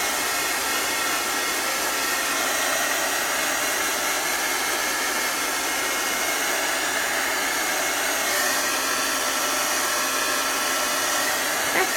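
Hair dryer blowing steadily and close up to heat set chalk paste on a pillow, a loud, unbroken hiss-whine throughout with no talk.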